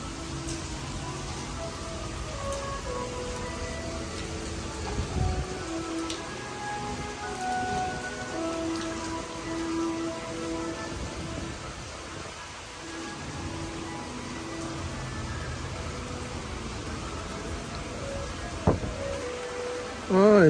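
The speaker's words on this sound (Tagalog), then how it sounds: "Beach na ulan." Steady rain falling at a beach on Sentosa, Singapore, a dense continuous hiss with soft rumbles throughout, fairly loud and unbroken, with a brief louder knock near the end.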